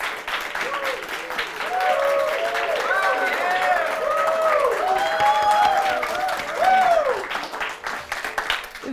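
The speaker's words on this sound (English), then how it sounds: "can we get a huge round of applause for these amazing contestants?" Audience applause for contestants at a live televised youth debate competition, sustained and moderately loud, with a melodic tonal line and voices running over the clapping.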